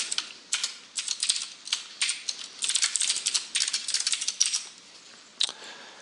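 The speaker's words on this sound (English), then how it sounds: "Why can't I type anymore? You need a new keyboard." Rapid typing on a computer keyboard during coding, dense clusters of close, crisp key clicks in uneven bursts, then a brief pause and a final keystroke, with no talk.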